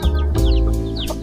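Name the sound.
chicken clucking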